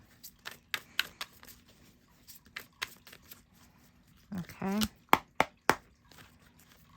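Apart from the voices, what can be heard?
shuffling tarot cards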